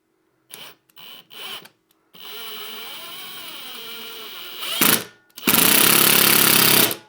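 Power drill driving screws into 3D printed shelf brackets, a few short buzzing bursts followed by a longer whirring run and a final loud, harsh drive of the screw.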